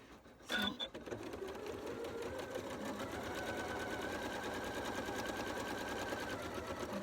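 Sewing machine stitching at a small 1.8 stitch length, steady and close, running continuously after a brief clunk at the start as fabric is guided slowly around corners.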